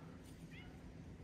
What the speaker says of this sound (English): Oh, I hear meow.